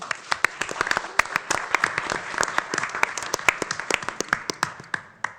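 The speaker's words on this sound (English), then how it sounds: "So a round of applause for her as well." An audience at a gender-themed talk claps steadily, with dense, loud, crisp applause that tapers off toward the end.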